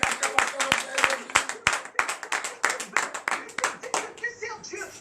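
Church congregation at a morning prayer service in Benin claps in a rhythmic, irregular beat of sharp hand strikes, loud and close, with voices and shouting mixed in, tapering into scattered cheers near the end.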